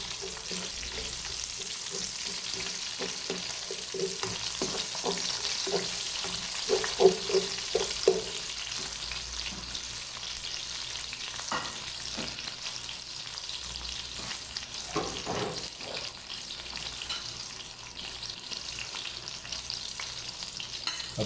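Green chillies sizzle and fry in oil for chana pulao while being stirred, a steady close crackle broken by repeated scraping strokes of the spoon, with no talking.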